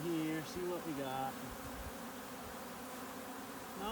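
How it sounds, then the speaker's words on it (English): Worker honey bees buzz in a newly installed package hive, a close, dense, wavering hum with brief louder passes over a steady swarm drone. "No, these are all just worker bees,"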